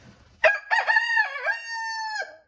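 A single rooster crows once, a clear, drawn-out cock-a-doodle-doo at moderate distance, with quiet background before it begins.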